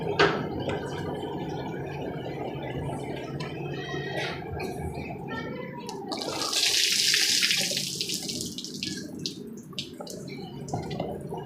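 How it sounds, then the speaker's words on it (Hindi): Potatoes being washed under running tap water in a home kitchen, with a steady splashing stream, a louder gush midway and scattered drips and handling clatter. "आलू धो के पा देने"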